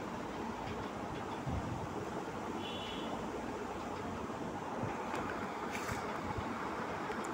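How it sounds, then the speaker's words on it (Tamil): Steady broadband bubbling and sizzling of pepper chicken curry boiling in a pot fills the whole stretch, a continuous rolling boil close by with no voices. "ஒரு பத்து நிமிஷம் நல்லா கொதிக்க விடணும்."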